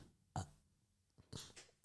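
Someone lets out a short, low burp up close, then a second, longer rumbling one follows a moment later in a quiet room.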